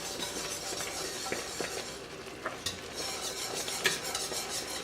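Homemade fudge being stirred in a pot as it nears hard ball stage, a soft continuous scraping and swirling with occasional light clinks of the spoon against the pot.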